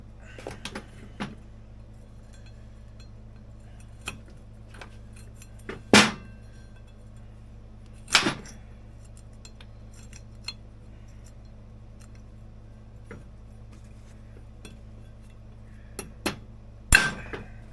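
A chisel struck with a hammer against the steel retaining ring of a vintage Polaris P85 snowmobile drive clutch gives a few sharp, ringing metallic cracks, spaced irregularly. Between the blows there are fainter taps and a low background hum.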